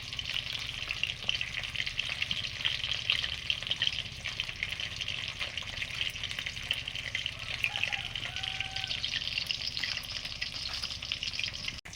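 Snakehead fish spices, with black cumin, frying in mustard oil in a clay pot, giving a steady, close crackling sizzle that runs throughout at an even level.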